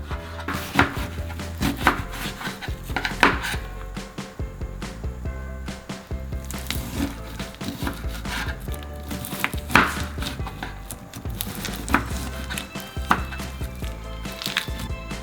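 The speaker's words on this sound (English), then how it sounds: "we'll first need to chop up the foam parts over and over until the bits of foam are these tiny bits condensed into" Foam cubes being chopped repeatedly in slime, a steady series of close, squishy cutting knocks and crunches with no talking.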